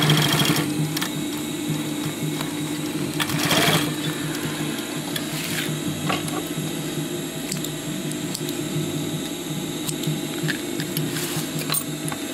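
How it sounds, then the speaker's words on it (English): A sewing machine stitches a row on a 30-litre backpack, a steady close mechanical whirr and chatter running throughout with a few brief louder clunks from handling the fabric. "Do a row of stitching."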